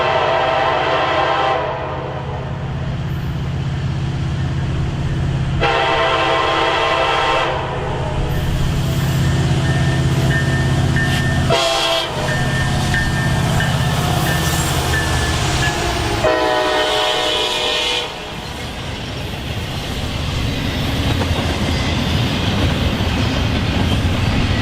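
A train passes on the Beaumont subdivision in Texas, a loud close roar and rumble of rolling cars with horn blasts sounding over it and dips in the din between cars.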